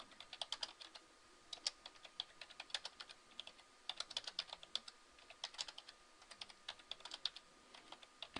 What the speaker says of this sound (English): Then I'll type.